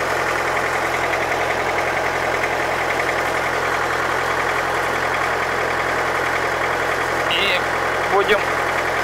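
An MTZ-80 tractor engine idles with a loud, steady, slightly knocking diesel rumble close by, and someone speaks briefly over it.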